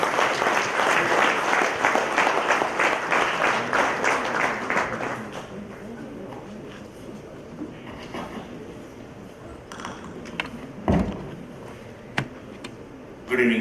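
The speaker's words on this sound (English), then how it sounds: "big round of applause." An audience at a national industry gathering's inaugural session applauds loudly and steadily for about five seconds. The applause then fades into scattered claps and room noise with some talking.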